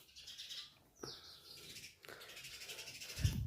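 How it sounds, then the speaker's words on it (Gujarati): Birds chirp in a quiet Gujarat village: a few faint, scattered tweets and calls rise over a soft ambient hush with no traffic or crowd noise, and no one talks. "અને પક્ષીઓ કલબલાટ કરી રહ્યા છે,"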